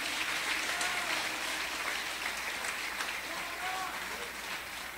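A church congregation claps for Jesus, steady moderate applause filling the room at a distance, with faint voices mixed in.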